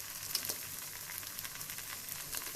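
Gola roti batter with vegetables frying in a pan, a steady soft sizzle with faint crackle, close but fairly quiet, no voices.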